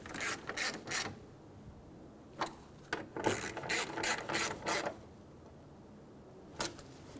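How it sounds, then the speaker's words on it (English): Ratchet snugging down coolant reservoir bolts on a 2012-2020 Chevrolet Sonic 1.8L L4, quick metallic clicking bursts in a few rapid runs separated by pauses, close and clear with no voices. "Install the two bolts. Snug the bolts down."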